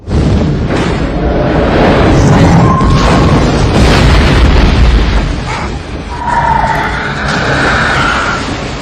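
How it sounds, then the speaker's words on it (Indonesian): A loud, sustained explosion of a smokestack in the 1997 film Anaconda roars with deep rumbling and crackling debris, then tapers off into lingering noisy rumble. "Cerobong asap itu pun berhasil diledakkan."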